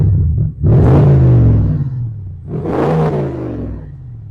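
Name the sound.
2024 Range Rover Sport P530 engine revving through exhaust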